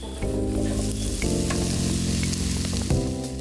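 Tomatoes hit a pan of browned onions and ginger and sizzle loudly and steadily, close up, with a few stirring scrapes and no talking.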